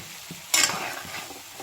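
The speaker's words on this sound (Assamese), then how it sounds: "মই মিডিয়াম ফ্লেমতে ভাজি আছোঁ মাংসখিনি" Chicken meat frying over a medium flame while being stirred in a pan, a short scraping stir with a brief burst of sizzle that fades quickly, no voices.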